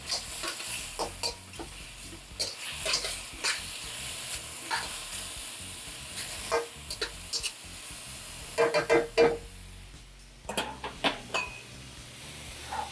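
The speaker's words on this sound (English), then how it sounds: "We want to put our shallots in and our garlic." Shallots and garlic sizzle in a hot pan for shrimp fried rice, a steady frying crackle broken by repeated sharp scrapes and clinks of a utensil stirring against the metal, close up and with no talking.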